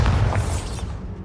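Bombarda spell explosion in Hogwarts Legacy, a deep booming blast with a low rumble that opens the moment and slowly fades over a second or so, heard alone.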